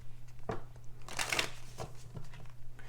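Brisk shuffling of a Psycards oracle card deck, a few quick papery riffles and slaps, one louder crisp burst in the middle, close and alone.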